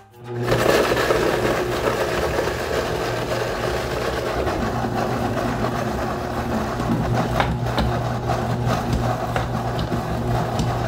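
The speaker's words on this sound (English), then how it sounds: "we're gonna start grinding up some peppers for a Serrano, green Serrano pepper mash" Green Serrano peppers are ground into a mash for fermenting hot sauce, a loud, continuous motorized whir with a steady hum and occasional rattling bursts, running without pause after a quick start.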